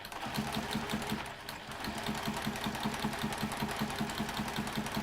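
A sewing machine fitted with a walking foot stitches a quilting seam, a steady rapid mechanical clatter running at an even pace close by, briefly slowing before picking up again, with no talking.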